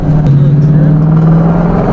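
A car with a bent axle drives loudly, its steady engine drone and a humming, grinding undertone filling the cabin in a continuous, unchanging roar, heard from inside at close range.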